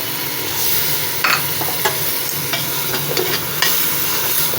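Water poured into a pot of frying masala with turnip and meat, giving a steady loud sizzle and bubbling hiss with occasional stirring scrapes, no voices.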